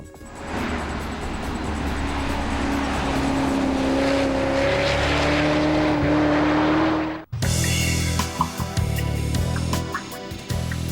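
An AC Schnitzer Topster concept car drives with a loud, sustained engine note that rises steadily in pitch as it accelerates, followed by a sudden cut to a different, busier engine sound.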